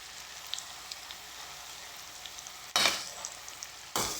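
Noodles stir-frying in a pan, a faint steady sizzle with a few light ticks, then two loud bursts of sizzling as the food is tossed near the end.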